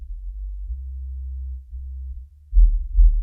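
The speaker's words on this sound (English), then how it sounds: "Sub-bass, below 60 hertz." A deep sub-bass test tone below 60 hertz hums steadily as a low, smooth rumble, briefly dipping before swelling louder in the final second, with nothing else audible.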